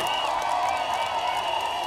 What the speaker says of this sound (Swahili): Makofi ya Japhet Nyakundi, wapi makofi?